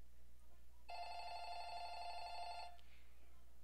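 A telephone rings inside the Roblox horror game Light Bulb: one electronic ring lasting about two seconds, bright and buzzy with steady tones, heard clearly over a low, quiet background hum with no talking.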